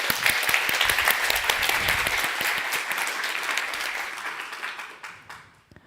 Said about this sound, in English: another round of applause for Laura Slot and her team